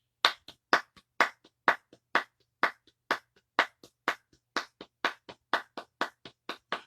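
A single pair of hands claps along in an even, steady beat, about two or three sharp claps per second, close and clear against silence.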